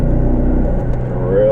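A 2006 Volvo V70R pulls in third gear at about 3,500 RPM, its engine giving a steady low rumble heard from inside the car, with the tone rising slightly toward the end.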